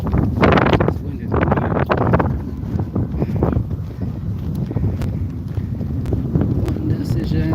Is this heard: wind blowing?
yes